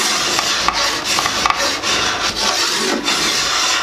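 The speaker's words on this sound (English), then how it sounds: "Hold your draw knife just at a certain angle until it starts to make some scrapes" A draw knife scrapes steadily along black locust wood being shaped into a recurve bow, a close, continuous rasping with slight rhythmic strokes and no pauses.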